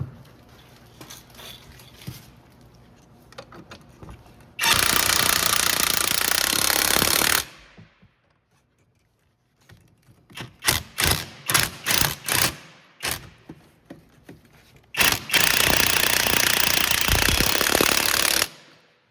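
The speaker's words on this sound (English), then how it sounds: "get those 17mm bolts in there. We're gonna run those down with the impact gun." Impact gun driving 17mm brake caliper bolts on a 2003-2008 Pontiac Vibe or Toyota Matrix front brake job. Two long loud rattling bursts are separated by a series of short rapid blips, close up, with quiet gaps and no talking.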